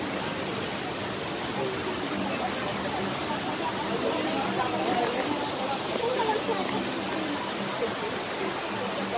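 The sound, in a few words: Hidden Falls waterfall in Luisiana, Laguna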